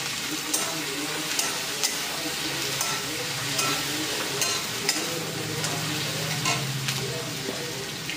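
Beans and tomato cooking together in a pan for a home-style bhaji, a steady broadband sizzle with occasional stirring scrapes, close and continuous with no voices.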